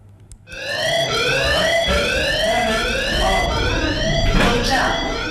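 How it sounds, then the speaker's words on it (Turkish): A school earthquake-drill siren wails, rising and falling continuously, loud and close, with a brief muffled noise before it starts. "81'deki tüm okullarda sirenler aynı anda çaldı"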